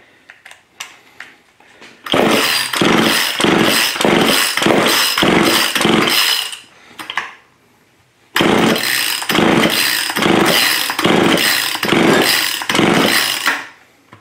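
An old Craftsman chainsaw is cranked repeatedly in two long bursts of rapid, loud, rhythmic mechanical strokes as someone tries to get it started, with a brief pause between.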